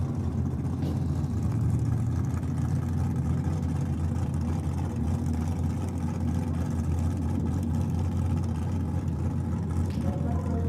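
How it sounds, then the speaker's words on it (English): A 408 cubic inch Cleveland V8 drag car engine rumbles steadily with a deep, loud idle at Sydney Dragway, a constant low throb held for the whole stretch with no revving. "that engine that you can hear is a 408 cube Clevo Toyota"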